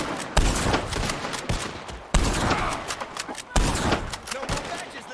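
Gunfire erupts in Red Dead Redemption 2 as O'Driscoll gang members are shot at, three heavy volleys of loud, close shots, each followed by a rolling, decaying rumble.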